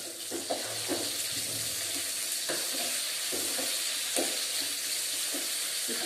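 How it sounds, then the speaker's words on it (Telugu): Onions and green chillies frying in a pan for poori curry, a steady hissing sizzle with occasional scrapes and knocks of stirring, close up and with no voices. "ఇప్పుడు ఆనియన్స్ అండ్ పచ్చిమిర్చి బాగా ఫ్రై అవ్వాలి."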